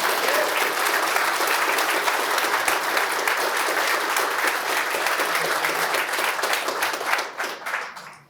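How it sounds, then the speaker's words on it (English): Sustained audience applause and clapping fill the room at an exhibit opening event at Bates Mill in Lewiston, loud and dense throughout before tapering off in the final second. "So let's just hear it for Rob one more time"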